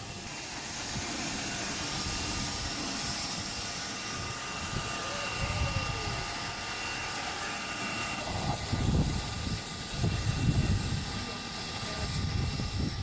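A diesel locomotive, a former Lehigh Valley SW1 switcher repainted as Black River Western 400, idles at a station with a steady low engine rumble and hum, close and continuous, with faint voices in the background.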